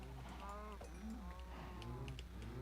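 Several cows in a video game moo in overlapping low calls over a steady background hum, with no talking.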